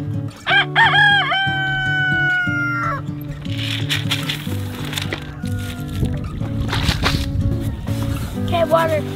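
A farm rooster flock of two Allvager mix roosters and three Indio Gante roosters crows repeatedly, loud and close, with several overlapping cock-a-doodle-doos over a steady low hum and some clucking.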